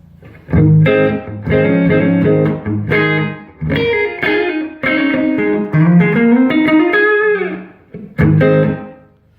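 Clean electric guitar played through an amp with no effects, in a room with a concrete floor: a series of ringing chords and single notes with short pauses between phrases, close and loud.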